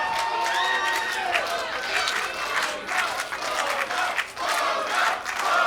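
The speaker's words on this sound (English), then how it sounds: "Crowd here is in full support of Milo Mira as they chant pogo" Wrestling crowd at a Chaotic Wrestling show chanting in support of a wrestler, a loud, dense mass of voices with rhythmic swells of shouting and cheering throughout.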